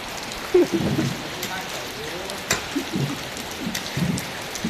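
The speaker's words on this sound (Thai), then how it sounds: "ฝนกำลังพอดีเลย" Steady rain patters throughout, with a few louder drops or splashes standing out and faint voices mixed in.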